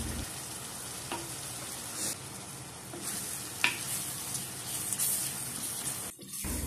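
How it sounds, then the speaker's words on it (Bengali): Rohu fish pieces fry in spices, giving a steady, fairly loud sizzle up close, broken by occasional scraping and stirring strokes and a short clatter near the end. "মাছগুলো দিয়ে 2-3 মিনিটের মতো নেড়েচেড়ে কষিয়ে নিলাম।"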